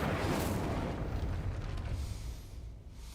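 An Incendio fire spell in Hogwarts Legacy goes off as a loud, rushing fiery blast that roars at once and then slowly fades over a few seconds.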